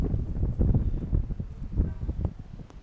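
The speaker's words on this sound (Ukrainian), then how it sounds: "Ось він небезпечний західний вітер." Gusty wind buffets the microphone in low, rumbling bursts, rising and falling over a few seconds with no voices.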